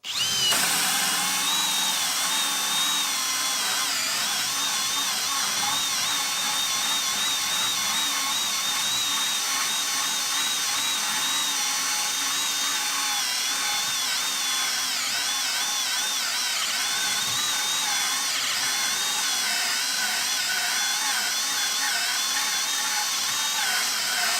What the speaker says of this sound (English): Let's see how well this performs with drilling a 3-inch hole.